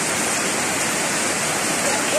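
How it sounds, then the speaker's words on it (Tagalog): Rushing floodwater overflows from a septic tank in heavy rain, a dense, steady wash of noise like a small waterfall, close and continuous without any speech. "umapaw talaga sa sobrang lakas ng ulan ngayong araw"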